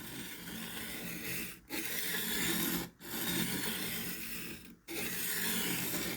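A steel knife edge being sharpened on a Ruixin Pro stone, heard as close, steady rasping strokes with three short pauses between passes, no talking.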